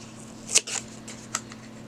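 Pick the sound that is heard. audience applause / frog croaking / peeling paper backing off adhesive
peeling paper backing off adhesive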